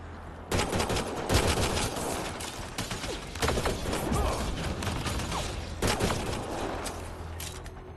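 Gunfire in the sci-fi video game Mass Effect: Andromeda rattles in loud, continuous bursts of rapid shots, with mechanical clatter and sharp cracks layered throughout, close and dense.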